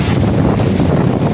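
Strong storm wind roaring steadily into the microphone, a loud continuous buffeting rush with no break, heavy enough to bend coconut trees.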